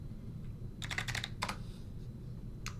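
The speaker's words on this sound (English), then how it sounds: "guess it from the sound of me typing" A few quick clicks of keys on a computer keyboard, soft and close, over a low steady hum.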